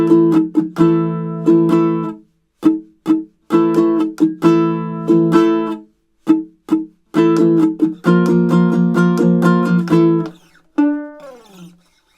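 Two measures of a melodic riff ring out clearly on a baritone ukulele, plucked notes in short phrases separated by brief pauses, close and bright, ending on a sliding note.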